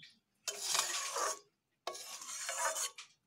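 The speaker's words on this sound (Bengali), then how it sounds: "জল দিয়ে একটু জলগুলোকে ভালোভাবে মিশিয়ে নেব। এইভাবে মিশিয়ে নিচ্ছি।" Jackfruit seed curry being stirred with water in a pan: two long, close rasping scrapes of a spoon against the pan bottom, separated by a short pause, with nothing else audible.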